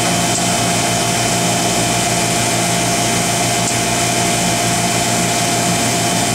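Vacuum soft pump running on an Oxford Plasmalab 800 Plus PECVD system, a loud, steady mechanical hum and whine that holds unchanged throughout.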